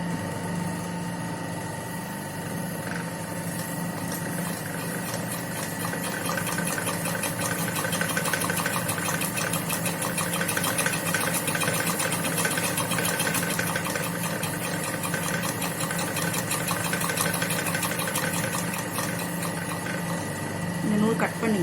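A sewing machine runs a zigzag stitch for a satin curve, giving a quiet, steady mechanical whir with rapid rhythmic ticking, while a voice talks over it.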